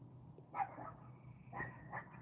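A small puppy seeking attention gives a few short whimpers and yips in quick bursts, close and moderately loud, over a low steady background hum.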